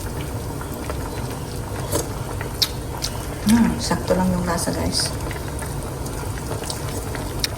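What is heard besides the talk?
mung bean soup with bitter gourd boiling in pot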